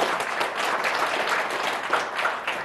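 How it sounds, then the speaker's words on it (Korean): Steady audience applause from a crowd at a talk, brisk continuous clapping held at an even level for a few seconds. "박수 세게 치셔도 돼요"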